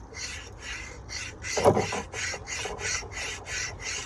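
A pocket wire saw from a survival kit cuts through wood in steady back-and-forth strokes, giving a rhythmic close rasping with one louder snagging scrape partway through.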